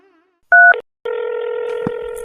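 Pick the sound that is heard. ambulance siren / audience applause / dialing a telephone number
dialing a telephone number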